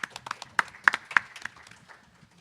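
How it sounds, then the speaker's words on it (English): Sparse clapping from a conference audience welcoming speakers, a handful of distinct near claps fading out after a couple of seconds. "let's give everyone a round of applause"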